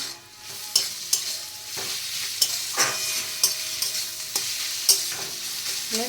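Radish frying in a pan over high heat, a constant hiss of oil under rhythmic, regular scrapes and knocks of a spatula stirring it, close and unaccompanied by speech.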